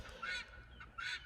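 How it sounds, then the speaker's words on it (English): Guineafowl in the background of a farmyard give two harsh, honking calls, each lasting about a fifth of a second, fairly faint and alone. "the other noise you hear in the background are 3 mad guineas"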